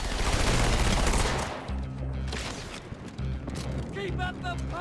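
Pistol and SMG fire rattle in rapid automatic bursts during a Halo 2 PC match, loud and dense at first, then more scattered, with a person talking over the game sounds.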